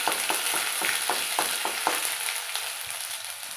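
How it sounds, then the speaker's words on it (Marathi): Ginger garlic paste sautéing in hot oil with cumin and mustard seeds, made for cabbage parathas, gives a continuous close sizzle with a series of rhythmic stirring strokes that fade out toward the end. "आता मी अद्रक लसणाची पेस्ट टाकत आहे आणि ह्या तेलामध्ये छानपैकी आता हे परतून घेत आहे"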